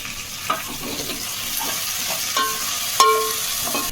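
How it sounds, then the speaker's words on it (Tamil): Onions sautéing in a pan while a Tamil mor kuzhambu is cooked, with a steady soft sizzle under a few sharp stirring scrapes and clinks of a utensil against the pan. "வெங்காயம் நல்லா வதங்கட்டும்"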